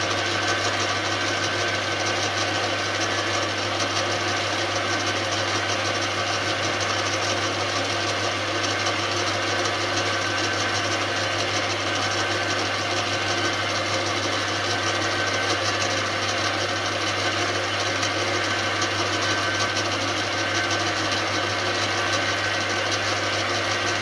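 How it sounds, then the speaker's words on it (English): A metal lathe runs forward while cutting, giving a loud, steady mechanical hum with a constant low drone and even whir throughout, no voices. "obviously now the lathe is going forward instead of in reverse when I was doing the lines"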